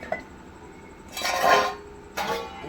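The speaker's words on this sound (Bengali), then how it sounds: "ঢাকা দিয়ে দিচ্ছি আমটা সিদ্ধ হওয়া অবধি" A metal lid clinks down onto a pot of boiling mango for a mango-mint drink, giving two short clattering contacts close by over a quiet kitchen background.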